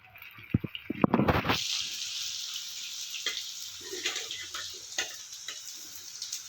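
Soya chunks drop into hot oil in a small frying pan, with a few clicks and a sudden burst of sizzling that settles into a steady frying hiss with faint crackles.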